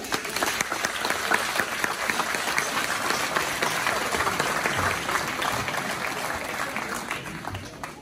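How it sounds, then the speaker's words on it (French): Warm, sustained applause rises from the audience at a university graduation ceremony in Haiti, a thick continuous patter of many hands clapping at steady loudness throughout, with no voices breaking through. "je vous demande d'applaudir chaudement les futurs gradués, de saluer leur courage."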